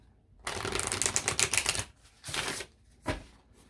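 Rapid crisp riffling of a tarot deck, a long burst followed by two shorter shuffles, close and fairly quiet.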